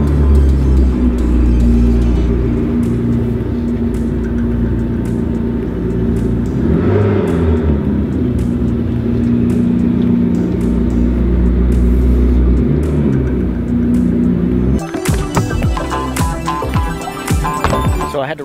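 A car drives slowly inside a building, its engine a steady, loud low rumble that swells briefly midway. Near the end the sound turns to rougher, clattering revs.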